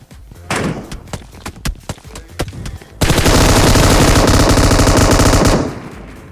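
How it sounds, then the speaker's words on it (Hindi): Gunfire in a battle royale game during an apartment rush starts as scattered single shots, then becomes a loud, sustained burst of automatic fire that fades at the end. "जिन्होंने भाई हम पे गोली चलाई होती है"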